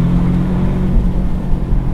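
Porsche 718 Boxster S engine pulling hard under acceleration, a steady, loud drone that runs continuously and rises slightly without a break, with no talk over it.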